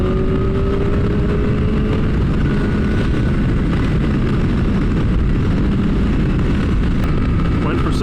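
A Kawasaki ZX-10R sport bike rides under heavy wind roar, its engine droning and rising as it accelerates and shifts into seventh gear, loud and steady throughout with a rider's voice intermittently over it.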